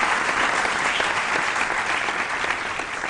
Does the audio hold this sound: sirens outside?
no